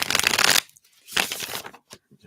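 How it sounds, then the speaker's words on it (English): Tarot cards being shuffled, two quick riffling bursts separated by a short pause, then a few faint card taps, close and alone. "Let's give these a shuffle here."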